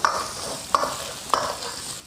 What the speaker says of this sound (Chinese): 先下入肉末给它炒散